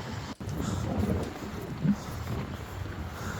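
Heavy rain in a storm, a loud, dense wash of rain and wind buffeting close to the microphone, with a few brief rumbling swells.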